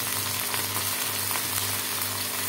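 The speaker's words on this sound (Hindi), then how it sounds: "हरी मिर्ची डालेंगे बघार में, लाइट सा फ्राई करेंगे इसे।" Onion, coriander and green chilies fry in hot oil in a home kitchen, a steady close sizzle with a constant low hum underneath and no talking.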